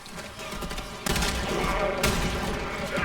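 Rapid gunfire in the shooter game Warframe, a loud dense burst that thickens sharply partway through and keeps rattling on, with a faint voice underneath.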